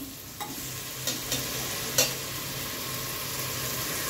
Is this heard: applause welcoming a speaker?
no